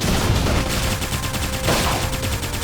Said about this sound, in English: Flame grenade!